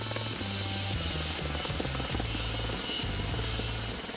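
A steady, deep rotor thrum of an Apache helicopter approaching slowly at an airport, loud and continuous with a low pulsing beat, holding close throughout.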